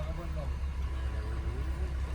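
A truck on a foggy, rainy mountain pass road, with a steady low engine drone and road rumble throughout and a person talking over it.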